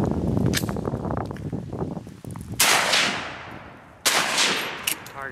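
Two loud, sharp rifle shots from a Browning chambered in .308 Winchester crack out in the open, each followed by a long decaying echo across the range.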